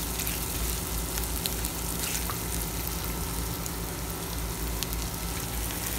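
A steady, close sizzle of rice frying with garlic in a hot pan, crackling evenly without pause and no voices over it.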